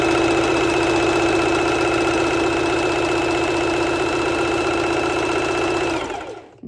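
A sewing machine runs continuously while stitching a lettuce edge border on stretchy swimsuit fabric, with a loud steady whirring hum that stops abruptly near the end.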